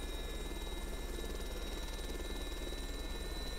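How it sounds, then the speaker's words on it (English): A Sud-Ouest Djinn helicopter in a flight simulator lifts into a hover, producing a steady, continuous rotor drone with an even throbbing pulse and a high whine, with no talk over it. "So nose comes up and we'll just lift it into the hover."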